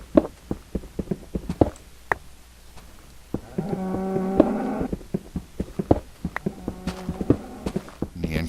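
Cow in Minecraft lowing in two drawn-out moos, mid-distance, amid a steady series of sharp footstep-like clicks.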